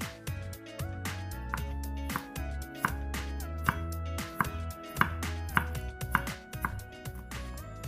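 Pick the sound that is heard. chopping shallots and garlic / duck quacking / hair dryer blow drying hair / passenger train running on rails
chopping shallots and garlic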